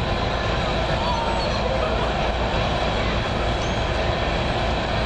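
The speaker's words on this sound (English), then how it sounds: "There's the train." A train rolls past outdoors at the Fort Worth Stockyards on St. Patrick's Day, a steady, loud rumble of wheels and cars filling the whole stretch with no break.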